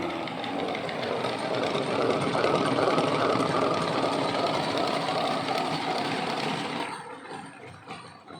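A honey extractor machine spins natural honeycomb frames with a steady whirring mechanical drone, loud and continuous for about seven seconds before winding down and fading.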